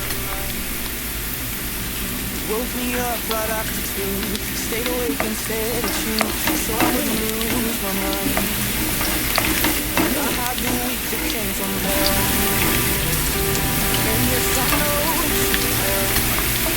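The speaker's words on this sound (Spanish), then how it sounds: "Al sofreír nuestros ajos vamos a cuidarlos muy bien para que no se nos quemen" Garlic fries in hot oil for salsa macha, a steady, fairly loud sizzle with crackling and occasional stirring scrapes that carries throughout, growing slightly fuller in the final seconds.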